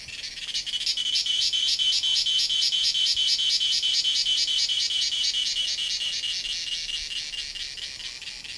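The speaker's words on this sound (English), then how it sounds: "This rendition is the creation of millions of individuals of one type of an insect known as the cicada." Millions of cicadas of a single species sing in a loud, continuous chorus. Their shrill buzzing pulses in a rapid, regular rhythm that swells, holds steady for several seconds, then eases slightly.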